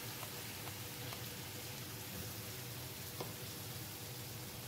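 Strained mustard water is poured over okra frying in a pan, giving a steady, even hiss of sizzling that holds at one level throughout, with a few faint clicks and no talking.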